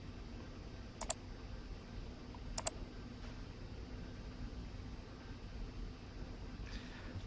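A computer mouse gives a soft single click and then a quick double click, close and faint over a steady low hiss.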